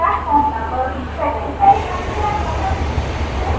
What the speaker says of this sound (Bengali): ও এই হচ্ছে পুরী স্টেশন থেকে বেরাচ্ছে।